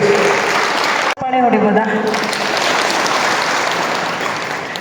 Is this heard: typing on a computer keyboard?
no